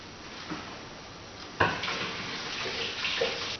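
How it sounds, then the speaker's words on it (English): Sticky hands being rinsed under a running kitchen tap after handling stringy candy, a steady faint water hiss with a few brief splashes and clinks, close by and without talk. "let me wash my hands from that"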